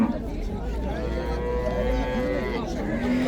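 A cow moos in one long, drawn-out call at a busy livestock market in Chiroqchi, Uzbekistan, close and loud over the steady hubbub of the crowd, with voices talking faintly in the background.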